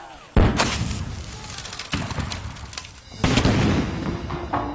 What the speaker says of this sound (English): the British rain a constant barrage of cannon and mortar fire down upon the town